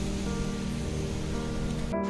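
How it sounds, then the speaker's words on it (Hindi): Rain falls steadily as a continuous, even wash of close patter, with no voices. "बारिश तो चालू है"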